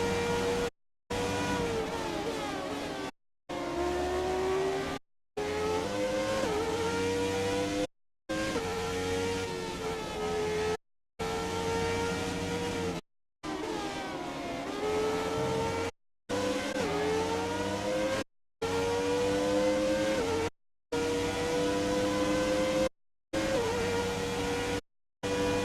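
Formula 1 race car engine in F1 2017 during a Brazil race, screaming loud and close as it climbs through gears in repeated rising sweeps, broken by short silent gaps.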